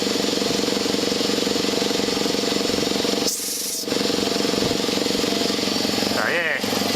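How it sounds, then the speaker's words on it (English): A motor-driven air compressor pump runs during servicing, a steady loud mechanical chugging that continues throughout, briefly cut by short gaps, with a voice heard faintly over it. "pump's being driven by the motor"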